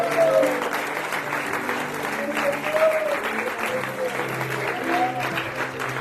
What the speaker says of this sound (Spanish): Dale ese aplauso de alabanza al Señor